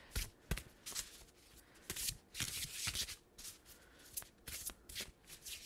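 Sacred Forest Oracle cards are shuffled by hand for a tarot reading, giving a steady series of close, soft riffling and slapping card sounds with no talking.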